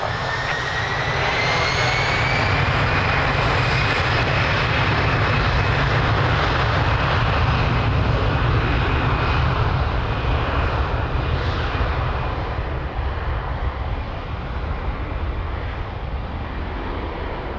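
A jet airliner takes off at Lisbon Airport with a loud, sustained engine roar and a rising whine that slowly fades as the plane climbs away.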